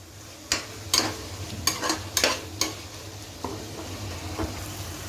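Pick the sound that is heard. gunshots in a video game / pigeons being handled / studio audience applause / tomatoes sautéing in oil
tomatoes sautéing in oil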